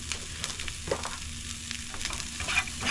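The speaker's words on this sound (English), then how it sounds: "We're gonna let her sizzle." Butter with wild onions sizzling in a hot pan on high heat, a soft continuous crackle with faint stirring clicks throughout, no voices.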